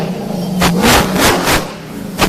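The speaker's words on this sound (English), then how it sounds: "He is revving up and ready to go." Race vehicle engine revving hard at the start line, several loud surging roars that rise and fall close by, ending with one more sharp blip of the throttle.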